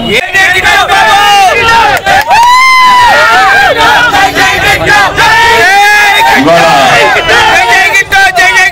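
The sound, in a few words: crowd clapping and cheering at political rally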